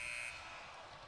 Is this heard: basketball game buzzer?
yes